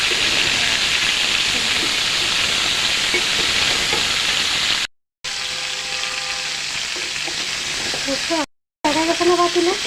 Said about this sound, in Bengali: ফুলকপিটা এভাবে ভাজলে